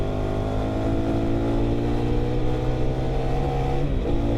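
A KTM 390 Adventure R motorcycle's single-cylinder engine holds a steady high-rev drone, loud and close, with a brief dip in pitch near the end as it shifts or eases off.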